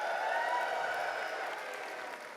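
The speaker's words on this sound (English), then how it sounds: "And the crowd goes wild." At the FWA 2024 opening ceremonies, a crowd applauds and cheers, a fairly close wash of clapping with voices mixed in, fading gently toward the end.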